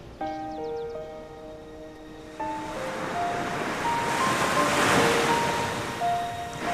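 Sea waves wash in as a steady, broad roar that swells and lingers, with wind noise mixed in, heard alone beneath a soft melodic tune of sustained tones.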